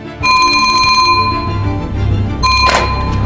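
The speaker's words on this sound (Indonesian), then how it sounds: "suara telepon rumah pun berdering" A landline phone rings loudly and close by in two bursts of electronic trilling separated by a short pause.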